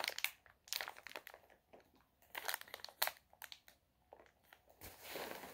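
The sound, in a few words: crinkling wrapper of ginger chews candy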